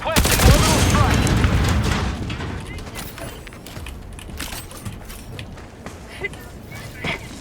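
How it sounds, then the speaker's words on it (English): Orbital strike explosions in the video game Helldivers 2: a heavy barrage of deep, rumbling blasts for the first two seconds, then quieter battlefield noise with scattered thuds and clicks, with a voice present. "Requesting orbital strike."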